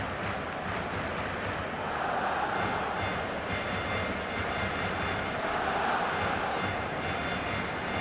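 Steady roaring stadium crowd at a Spanish league football match in the eFootball video game, a dense, continuous wash of cheering that stays loud and even throughout.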